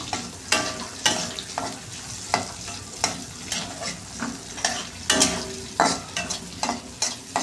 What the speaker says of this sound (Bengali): কাঁচা লঙ্কাটা ভাজা ভাজা হবে